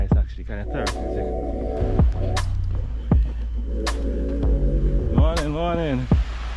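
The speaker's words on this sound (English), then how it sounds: "This is a power plant. I'm walking by, it has a humming sound." A power plant hums with a steady low drone that runs through the whole passage, passed on foot at night, while louder tonal, voice-like sounds and sharp clicks come and go over it.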